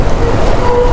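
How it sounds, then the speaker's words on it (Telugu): A train rolls past a rail crossing beside flyover construction, a loud, steady low rumble with no break for the whole brief moment. "ఈ రైలు వెళ్ళిపోతుంది"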